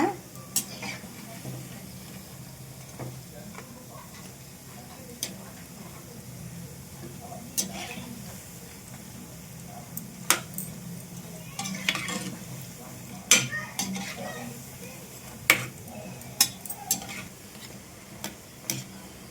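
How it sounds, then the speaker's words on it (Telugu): Moong dal bondas deep-frying in hot oil give a low, steady bubbling fizz, punctuated by sharp ticks and clinks of a slotted spoon turning them against the pan. "మనము వేసుకున్న ఈ బోండాలు చక్కగా వేగుతున్నాయి అటు ఇటు తిప్పుకుంటూ మనము ఫ్రై చేసుకోవాలన్నమాట"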